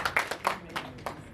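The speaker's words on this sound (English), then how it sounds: "Let's give them a round of applause." Scattered hand claps from an audience at a Cocktails & Cupids luncheon, a handful of separate claps over a moment, fairly quiet and not a full ovation.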